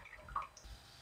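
A porous clay pot sits dipped in a tub of water, giving off a faint, soft bubbling and fizzing as it soaks the water up.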